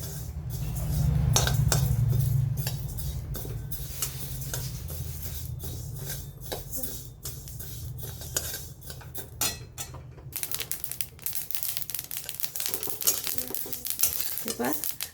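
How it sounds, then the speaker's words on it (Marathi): Flaxseeds dry roasting in a pan over low heat, a steady soft sizzle with scattered crackles and occasional stirring clinks of a utensil, close and fairly even throughout. "जवस ना असं चटचट करायला आहे का तोपर्यंत असं भाजायचं"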